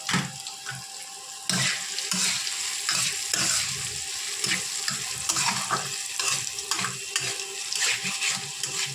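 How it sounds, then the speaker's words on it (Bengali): Rice frying in a pan with potato, onion, tomato and peanuts, a continuous close sizzle with frequent scraping and knocking strokes of the stirring spoon, busy and fairly loud throughout. "এখন ভাত ভাজা করছে।"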